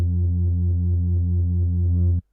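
A respace sample triggered from a keyboard in Ableton Live for a jungle production, one steady buzzy low tone held for about two seconds before cutting off abruptly.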